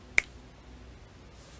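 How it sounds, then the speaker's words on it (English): One crisp finger snap rings out close by and alone, followed only by near silence. "when I snap my fingers, you awake from this sleep"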